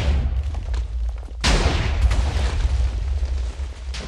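A TNT cannon loaded with 21 TNT fires in Minecraft, a deep booming explosion that bursts in loudly after a rumbling lead-in, followed by a roaring blast tail and a second softer thump at the end.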